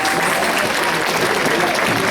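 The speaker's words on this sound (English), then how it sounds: "So please give her a round of applause." Loud, dense audience applause in a temple hall at a bhajan fundraising performance, honoring the evening's sponsor, a close and continuous roar of clapping throughout.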